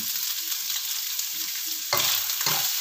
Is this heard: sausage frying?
yes